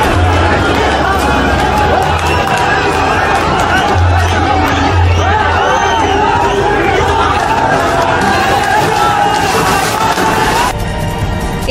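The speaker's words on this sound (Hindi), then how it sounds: "लाठी चार्ज और ये नारेबाजी।" Loud, dense crowd noise from a street protest in Indore with barricades, a water cannon and a police lathi charge, full of overlapping shouts and chanted slogans, continuous throughout with a brief easing near the end.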